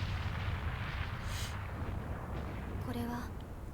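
Explosions in the anime Frieren rumble as a deep, sustained roar of blasts, with brief higher bursts and a short voice cutting in near the end.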